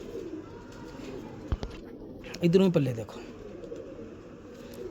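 A pigeon at a breeder's loft gives a short burst of cooing, close and clear, while someone talks over the surrounding background noise.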